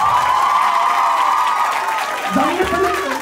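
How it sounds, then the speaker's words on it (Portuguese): An audience cheers and applauds a presenter at an event, a dense crowd roar with whoops. It fades slightly before a voice speaks near the end. "Uma salva de palmas para o apresentador!"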